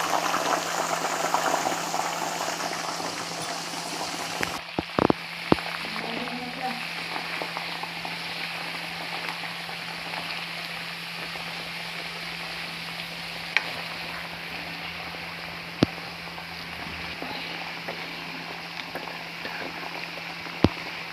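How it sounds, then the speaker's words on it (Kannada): Homemade herbal hair oil boiling steadily in a pan, a continuous bubbling sizzle that holds alone throughout, with a sharp clatter near the start and a few faint clicks later on. "ಐದು ನಿಮಿಷ ಇಷ್ಟೇ ಬಾಯ್ಲ್ ಮಾಡಬೇಕು."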